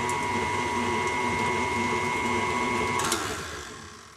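An electric mixer whirs steadily while blending shortbread dough of butter and dry ingredients, a constant close motor hum that shifts pitch near the end as the speed changes, no talking.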